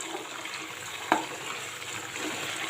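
Ghee simmers in a pan while being stirred, making a soft, steady, faint bubbling hiss with a single sharp knock of the spoon partway through.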